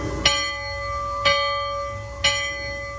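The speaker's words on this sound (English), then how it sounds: "Sound last bell." Bell aboard the Liberty Belle Riverboat at Magic Kingdom struck three times at even intervals about a second apart, each clear ringing strike decaying before the next, with no talk.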